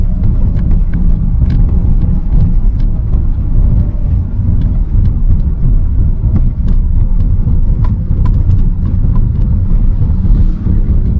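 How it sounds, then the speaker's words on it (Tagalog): A car engine-braking in second gear on a winding downhill road gives a loud, steady low drone with road and wind rumble and a few faint clicks throughout. "We're currently using the engine brake of the second gear."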